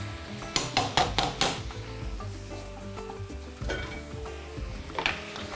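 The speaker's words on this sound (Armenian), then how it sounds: "և լցնում ենք տապակվող բանջարեղենի վրա" A mixture poured over vegetables frying in a pan, with a spatula clattering and stirring against the pan at first, then a steady sizzle with occasional scrapes, close and moderately loud, no talking.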